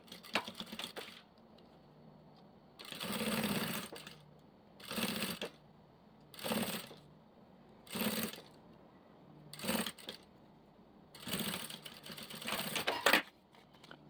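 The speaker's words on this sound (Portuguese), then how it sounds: "Agora eu vou dobrar e passar uma costurinha rebatendo." A sewing machine topstitching folded fabric binding on a small toothbrush holder, running in about eight short bursts of rapid stitching separated by pauses, close and clear with no talking.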